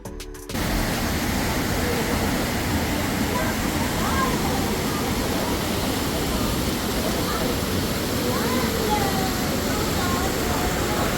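Sprite Falls, a waterfall reached on foot after a hike, roars in a loud, unbroken rush of falling water that continues without pause from just after a brief opening moment until the end.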